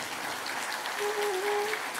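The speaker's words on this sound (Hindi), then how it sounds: "सभी एक दूसरे के उत्साहवर्धन में तालियों की गड़गड़ाहट करें।" An audience at a spiritual gathering applauds together in a steady, dense patter of clapping that sounds like rain. A faint sustained tone runs partway through it.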